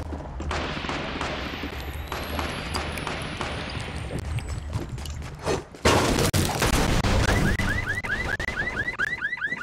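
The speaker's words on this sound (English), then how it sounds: "I heard gunfire." Gunfire rings out in a Fortnite 50 v 50 match, with scattered shots at first, then a denser, louder stretch of rapid firing mixed with chirping mechanical tones.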